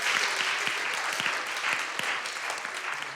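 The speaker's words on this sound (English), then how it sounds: "Give yourselves a round of applause," An audience at a voice-based meditation gathering applauds in a steady, dense patter of many hands clapping for a few seconds.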